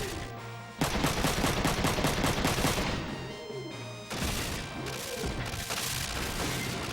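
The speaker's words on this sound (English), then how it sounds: "I guess Roga's just gonna shoot him up." Gunfire from a Wanzer mech in the video game Front Mission 3, loud rapid bursts of automatic shots with heavy impacts and crashes layered over game effects, near and dense for several seconds.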